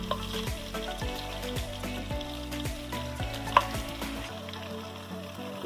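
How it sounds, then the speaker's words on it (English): Large pieces of meat searing in a hot pan as the first step of a braise, giving a steady close sizzle with background music running underneath. "We're going to sear the outsides first, so here they go."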